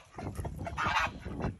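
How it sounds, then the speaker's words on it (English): Dirty ducks quack and call in a short, close burst of overlapping, raspy honks at moderate volume, with no clear speech. "My poor dirty ducks!"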